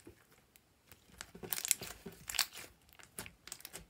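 Glossy strawberry-cheesecake slime packed with foam chunks crunches and crackles as it is squished, in a run of close, irregular crisp pops and crinkles with no talking.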